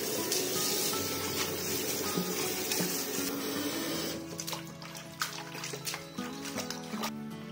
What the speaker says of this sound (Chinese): 接下来把豆角放入盆中清洗几遍，